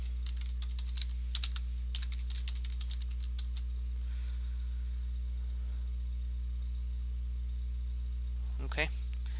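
Keystrokes on a computer keyboard as a name is typed, a quick cluster of clicks early on then sparse taps over a steady low electrical hum, with a brief sharper sound near the end.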